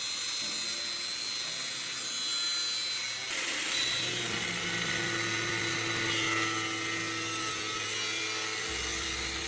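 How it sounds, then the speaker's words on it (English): An angle grinder cuts away a wide section of a metal sidewall while building a homemade onion cutter, giving a steady, loud, continuous whine that shifts in pitch partway through and carries on with no pauses or talk. "Using the grinder, I'll cut away a wide portion of the sidewall"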